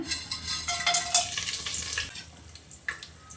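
Whole spices fry in hot ghee and oil, crackling and hissing close by, with scattered stirring scrapes and light clinks of a utensil against the pan.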